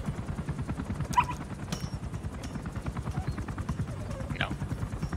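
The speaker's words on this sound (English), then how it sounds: "Kill that chopper!" Helicopter in Metal Gear Solid V: a steady, fast rotor chop fills the whole stretch at moderate loudness, with short sharp effects and brief voices breaking in over it.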